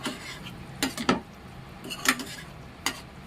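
A spoon stirs and mixes a spiced Kathiyawadi peanut bhajiya curry in a kadai, with a few soft clinks and scrapes against the metal over a faint low sizzle, sparse and close.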